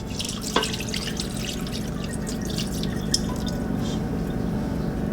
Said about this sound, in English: separate the rest of the buttermilk from the butter. So we're going to dump this part out.